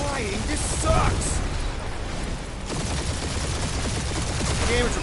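Sustained spaceship gunfire and explosions during a space dogfight in the Guardians of the Galaxy video game, a dense continuous barrage with scattered booms under game music and occasional character voices.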